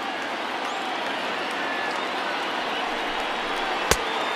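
Crowd of about 23,000 at a Yankees vs. Athletics baseball game in MLB The Show 20 rises in a steady, continuous roar, a broad wash of cheering held throughout with one sharp crack near the end.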